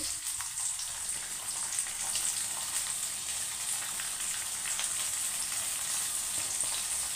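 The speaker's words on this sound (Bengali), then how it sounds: "এবার পেঁয়াজ কুচি দিয়ে দেবো" Chopped onion fries in oil with cumin seeds, producing an even, continuous hissing sizzle close by with only faint stirring underneath.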